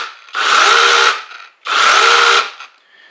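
IMOUM cordless 6-inch mini pole chainsaw, battery-powered, revving in two loud, close bursts of about a second each with a short pause between, a high electric whine alone without talk.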